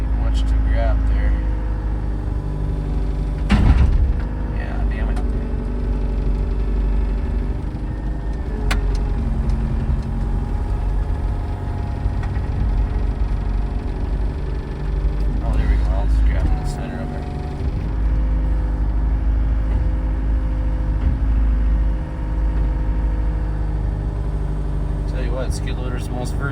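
A skid loader engine runs steadily as its fork lifts a tractor tire, a loud continuous mid-low drone with occasional bumps and clanks, under intermittent talk.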